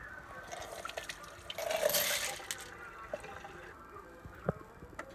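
A short splash of water pouring out of a container used for cleaning coins, rising then cutting off, followed by scattered drips and small clinks nearby.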